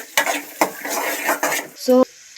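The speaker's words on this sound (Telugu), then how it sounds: "తర్వాత కొద్దిగా ఫ్రై చేసుకో జీలకర్ర వేసి బాగా ఫ్రై చేసుకోండి." Onions, green chillies and cumin fry in a pan while a spoon scrapes and clinks against the metal in several sharp strokes, ending with a short ringing knock.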